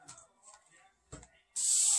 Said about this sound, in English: This is a very fine spray, so now I see a nice puddle across there.